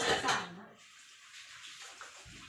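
Warm water gushes from a tap while dishes are washed with soap, loud and near at first, then thinning to a quieter trickle and faint clinks.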